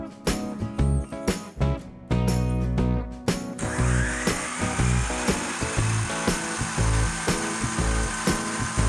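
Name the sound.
power saw cutting MDF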